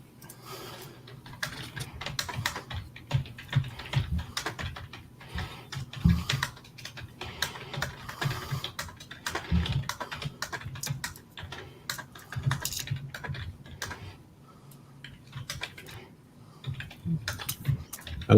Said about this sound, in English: I love that old ancient keyboard of yours. What? The loud clickings.